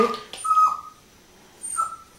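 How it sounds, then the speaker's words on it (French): A dog gives two short, high, whining whimpers, fairly close and clear, separated by a quiet pause, indoors. "Il est vraiment fatigant, ce chien."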